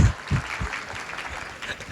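Applause at a real estate registry officers' conference lecture in Brazil, a short burst of audience clapping that fades, with a few low thumps early on.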